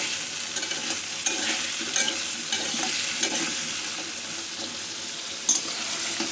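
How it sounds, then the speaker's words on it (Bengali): Hot water poured into a cooking pot in a cold, foggy setting, a steady broadband wash of pouring and bubbling with occasional small knocks, close and continuous throughout, no voices. "গরম পানি দিচ্ছি এখন"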